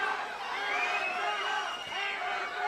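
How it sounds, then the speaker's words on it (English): Crowd at an MMA fight chanting during the third round of Wade Johnson versus Drew Kennedy, a steady roaring mass of voices with rising rhythmic swells, dense and continuous throughout. "As the crowd is chanting hammer time."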